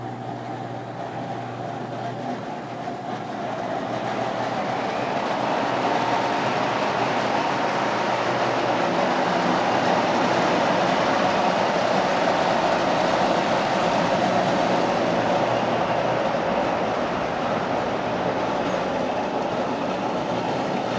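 A model diesel locomotive runs along its track pulling a string of cars, a steady, close rolling rumble with a constant hum that builds slightly after the first few seconds and continues without pause.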